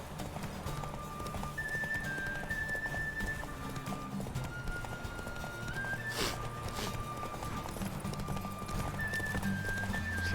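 Horse hooves pound steadily at a gallop in The Witcher 3, a continuous clip-clop running the whole stretch over sustained tonal game sound, with one sharp impact near the middle.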